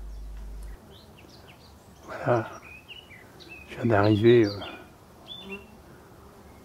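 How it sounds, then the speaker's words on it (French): Scattered bird chirps and calls drift faintly through a forest apiary with six hives, heard softly beneath someone speaking French. "il y a un concert d'oiseaux là qui se répondent"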